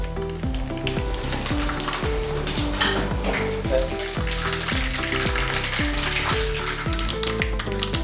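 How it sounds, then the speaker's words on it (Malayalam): A tablespoon of mustard seeds crackles and spits in hot oil for a beef curry, a dense, steady sizzle with scattered pops running the whole time beneath melodic background music. "നമ്മുടെ കടുക് പൊട്ടിയിട്ടുണ്ട്."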